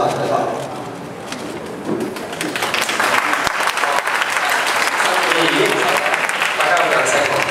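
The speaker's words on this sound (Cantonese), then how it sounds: "大家有掌聲喎！" Applause from an audience at a school enrollment entertainment event as participants come up on stage, a steady wash of clapping lasting throughout, with voices mixed in.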